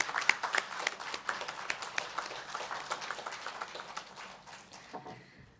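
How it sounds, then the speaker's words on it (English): Audience applause for a chief guest at a national toppers prize distribution ceremony, a crowd of hands clapping with audible individual claps, steady and fairly faint before fading out near the end. "Let's give him a round of applause"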